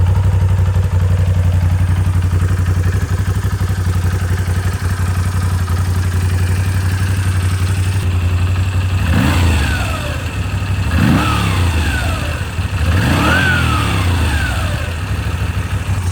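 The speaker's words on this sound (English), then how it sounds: "Let's fire up and hear the stock exhaust," A Moto Guzzi V7 Carbon Dark with its stock exhaust idles with a steady, low, shaking rumble. Partway through it is revved three times, each blip climbing sharply and dropping back. The sound is close and has no talk over it.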